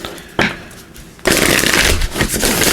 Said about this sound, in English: Let's give these a couple shuffles here, and we'll see what else they want you to know.